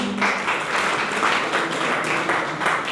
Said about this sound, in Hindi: बजाओ अपने लिए ताली।